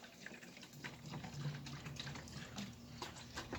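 About a gallon of dechlorinated water poured from a jug into a container for mixing garden fertilizer, a soft close trickle and splash running unevenly for a few seconds.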